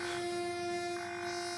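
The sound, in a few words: train horn from a slow-moving train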